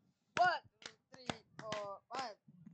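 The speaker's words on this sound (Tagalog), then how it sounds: "5 palakpak muna." A group at a Filipino comedy show claps five times in unison, with short, evenly spaced claps and voices calling out along with each one.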